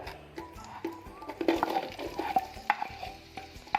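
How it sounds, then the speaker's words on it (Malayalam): Sliced onions fry in oil for a parda biriyani, with a soft sizzle beneath frequent clinking and scraping stirs of a spoon in the pan, fairly quiet and close. "അപ്പോൾ ആദ്യം തന്നെ നമുക്ക് ഉള്ളി ഒന്ന് ഫ്രൈ ചെയ്തെടുക്കാം"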